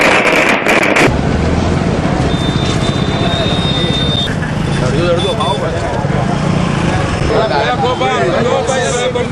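Fireworks burst at an election victory celebration held by BJP workers in Vadodara, with crackling pops and bangs ringing out under a steady din of crowd chatter and cheering throughout.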